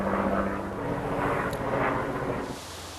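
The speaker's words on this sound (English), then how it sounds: "a fucking helicopter" A helicopter passes overhead, its engine and rotor making a steady broadband roar that holds at a loud level and then eases off near the end.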